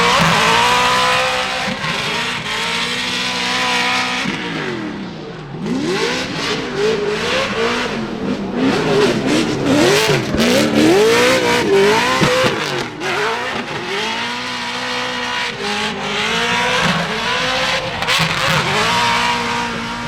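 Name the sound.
drift car revving with tire squeal at Formula Drift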